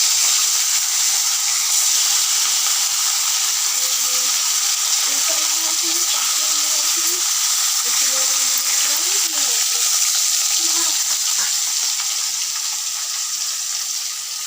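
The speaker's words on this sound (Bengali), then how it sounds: "কড়াটা তেতে গেছে চলো মাছগুলো ভেজে নিই" Fish fry in a well-heated kadai with a loud, steady sizzle and hiss throughout, close by, while someone talks over the frying.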